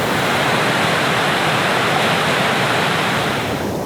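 Whitewater rapids at Island Rapid on the lower Madawaska River roar in a steady, dense broadband rush of churning water, loud and close, with no voices over it.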